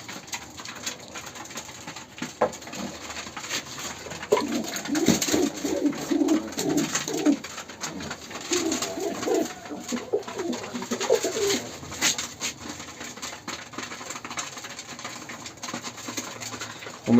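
Pigeons cooing in their loft, with soft repeated coos rising from about the fourth second and lingering through the middle, set against a steady low background hum and faint patter.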